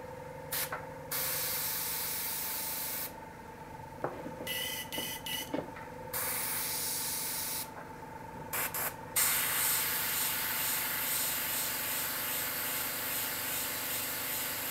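Airbrush spraying dark purple paint onto gel or acrylic nails, a steady close hiss in several bursts separated by short pauses, with a louder, brighter stretch of spraying toward the end.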